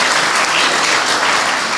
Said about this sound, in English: please give a round of applause to all the dignitaries who have come here to grace the occasion